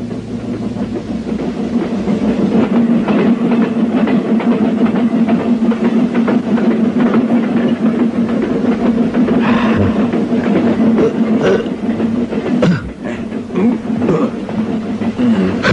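A cartoon train running on rails, a continuous loud rumble with rhythmic clicking of wheels over joints and a steady low engine drone, with a brief sharper clatter near the end.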